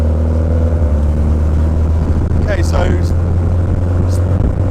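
A GBS Zero kit car, a Lotus 7 style roadster, idles while its engine warms up: a steady, loud low rumble that stays constant throughout, with someone briefly speaking over it.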